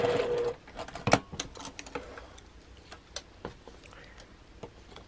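A sewing machine back stitches across the bottom of a crossbody bag in brief clicking bursts after a short opening run, with scattered ticks and taps from handling in between.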